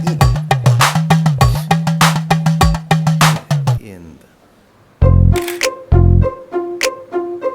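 A camera shutter fires in a fast, rhythmic burst of loud, close clicks, pauses, then fires a few more times, with some talking.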